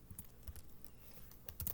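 Computer keyboard typing, a short run of quiet, close key clicks in irregular rhythm with no talk.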